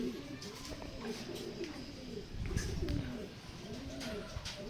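Racing pigeons coo in a loft in Santa Maria during a derby, soft repeated low coos rising and falling over faint background noise.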